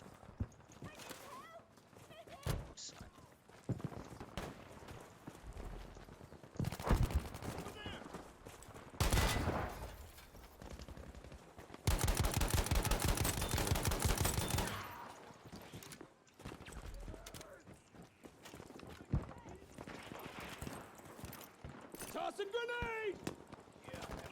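Gunfire in Battlefield 5 on the Al Marj map comes as scattered shots and short bursts, some loud and others distant. Voices talk throughout, with a louder sustained stretch of firing in the middle.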